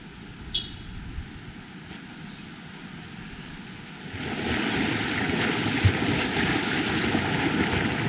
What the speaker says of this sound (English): the river makes a lot of noise